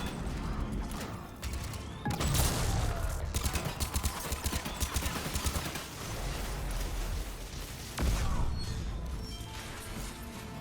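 Gunfire in a Mass Effect 3 firefight, with dense, loud bursts and crashing impacts running throughout, layered over busy game effects and sound.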